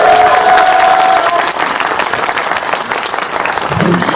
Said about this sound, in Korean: 저희 같이 박수 치면서 이 자리 마감하도록 하겠습니다